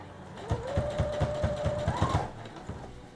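A sewing machine runs through a dress seam in a short burst, about seven quick regular needle thumps over a rising motor whine, close by, then stops and falls quiet.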